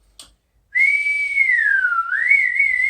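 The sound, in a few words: person whistling with the mouth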